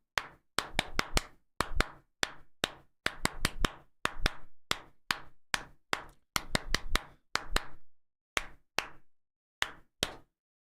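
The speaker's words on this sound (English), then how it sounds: "Did I annoy you with my clap in the microphone?" Sharp hand claps struck right into a microphone, loud and close, about twenty in an irregular run with short pauses, each a crisp broadband snap fading fast, no voices.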